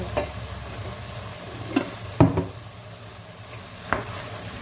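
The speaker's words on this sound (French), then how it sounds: "Je mélange." Tomato paste and paprika stirred in a sizzling pan, with a steady low frying hiss and a few sharp scrapes of the spoon against the pan.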